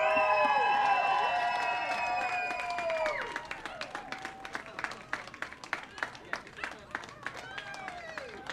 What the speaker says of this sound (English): can we cheer a little louder?